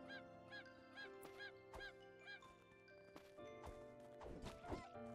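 Game chicken in Craftopia clucking in a series of short, repeated honking calls, fairly close, mixed with game sounds, hits and faint background music.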